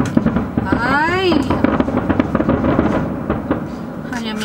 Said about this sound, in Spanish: odio los cohetes